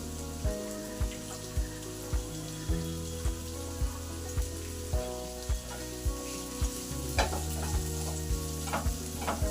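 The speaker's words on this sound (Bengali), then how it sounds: "এবার মিহি করে পেঁয়াজগুলো কুচানো আছে, এই পেঁয়াজগুলো আমি তেলে দিয়ে দেবো।" Finely chopped onions fry in hot oil with a pinch of salt for a Bengali rui posto dish, giving a steady close sizzle broken by regular clacks of stirring and no voices.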